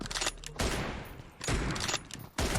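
Loud gunfire from the mobile battle royale game PUBG Mobile, several sharp bursts of shots with brief pauses between them, close and dominant, no talk.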